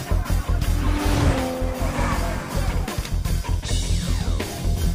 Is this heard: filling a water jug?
no